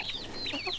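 Nearly six-week-old chicks cheep and cluck in a short burst of high, wavering chirps, fairly close and alone.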